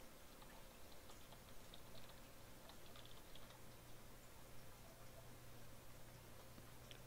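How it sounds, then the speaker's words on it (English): Typing on a computer keyboard while posting in a chat during a live stream, a steady run of soft, quiet key clicks under a low constant hum. "Typing it in chat."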